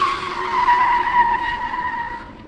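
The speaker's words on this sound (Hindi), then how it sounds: "उसने झटके से अपनी गाड़ी रोकी।" A car brakes suddenly and its tires skid in one long sustained squeal, loud and steady before trailing off slightly at the end, with no talk over it.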